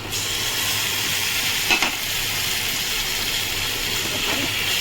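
Kochu greens fry in a pan with fish head, a steady loud hiss and sizzle filling the background while a spoon stirs with a few brief scraping strokes.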